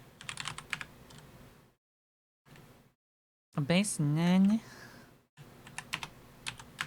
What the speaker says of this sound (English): I'm so good at typing